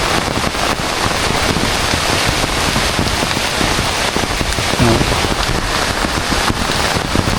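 Rain falls steadily on crops on a farm, a dense, constant hiss of drops with some wind buffeting the microphone, loud and unbroken throughout.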